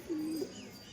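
A Giribaz pigeon gives a short, low coo close by, a single brief murmuring call over a steady background hiss.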